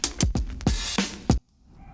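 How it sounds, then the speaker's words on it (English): Hard, punchy compressed drum playback in a music production mix, with several loud kick and snare hits in a quick pattern, ending abruptly into near silence. "therefore I get those hard, punchy drums. It sounds like this."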